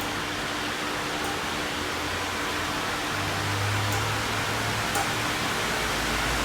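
An IndusCom Orbit ceiling fan runs shakily at its slowest speed, giving a steady broadband whoosh of moving air with a low hum underneath and a few faint knocks.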